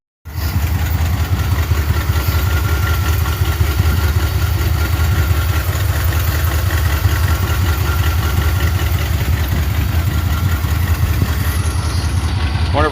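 Engine of a 1977 Chevy Cheyenne K5 Blazer idling after sitting for 20 years, a loud, rough, continuous rumble close by that runs steadily without a break.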